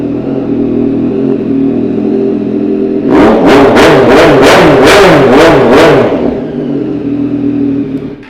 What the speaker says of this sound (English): the noise of that exhaust.